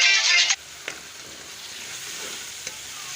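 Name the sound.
potatoes and peas frying in spices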